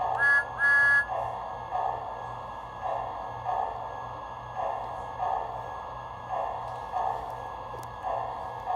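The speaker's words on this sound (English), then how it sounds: "The whistle is activated by pressing the whistle button, like this." A Lionel Thomas & Friends ready-to-play toy train sounds its whistle in two short, bright toots at the start, followed by a quieter, rhythmic chuffing loop.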